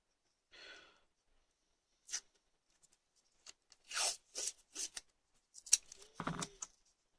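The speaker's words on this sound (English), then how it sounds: "we're going to have a little drop of masking tape around the back end here" Masking tape being pulled and stuck around the back end of a Classic Mini rocker switch before painting: short tearing and rubbing bursts, close and quiet, separated by pauses, with no talking.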